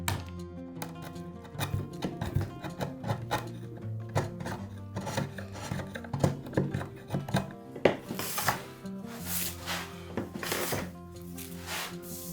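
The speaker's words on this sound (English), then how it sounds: "I'll make a few cuts with a handsaw and then notch with a narrow chisel" A handsaw rasps through wood in steady back-and-forth strokes, followed by sharper scraping and tapping as a narrow chisel notches the cut for a wooden shelf and TV stand, with faint background music throughout.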